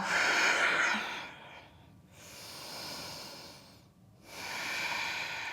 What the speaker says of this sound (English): take a deep breath in. Exhale, let it go.